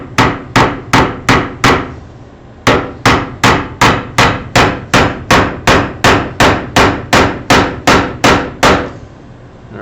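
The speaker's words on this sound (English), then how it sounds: "you want to make sure when you're hammering, you're hitting it straight up and down" A hammer drives a nail straight down while a table sub-assembly is being built. About two dozen sharp, loud, evenly timed strikes come up close, with one short pause early on and no talking.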